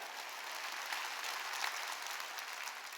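A church congregation applauds during a Wednesday worship service, a steady wash of clapping from many hands that holds at an even level for the whole stretch, with no voices standing out.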